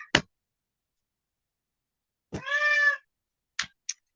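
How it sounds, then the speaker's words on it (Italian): A pet cat gives one clear, drawn-out meow lasting about half a second, framed by a few short sharp clicks or taps before and after, with no voices. "ascoltate il mio gatto che vi dice no"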